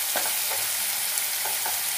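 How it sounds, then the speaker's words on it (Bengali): Potatoes fry in hot oil seasoned with salt and turmeric, a loud continuous sizzle close by with faint scraping of a stirring spoon now and then. "আলুটাকে লাল লাল করে ভাজবো, একদম ভাজা আলু যেমন করে খাই আমরা"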